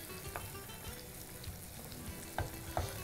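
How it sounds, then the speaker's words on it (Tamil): Onions sautéing in a pan, with a steady low sizzle and stirring that runs throughout, plus a few brief scraping clicks from the utensil near the end. "நல்லா பிரித்து போட்ட மாதிரி போட்டு வெங்காயத்தை நல்லா வதக்கிறோம்"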